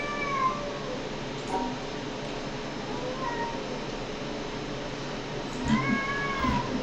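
Mournful meows from a cat recur three times, short and plaintive, over a constant low background hum, the last cry longer and louder.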